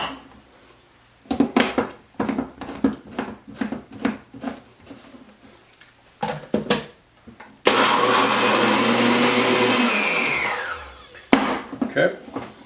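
A blender whirs for several seconds, loud and steady, blending oil, parsley, cilantro and jalapenos for a vinaigrette, preceded by clinking and knocking kitchen sounds and followed by a brief clatter.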